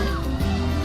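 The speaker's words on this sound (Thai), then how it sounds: "ตอนนี้มันเสียงกรีดร้อง" Loud, continuous screaming and yelling from the video game Pineapple on Pizza, layered over game music and holding steady without a break.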